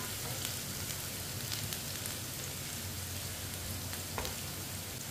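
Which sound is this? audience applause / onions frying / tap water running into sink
onions frying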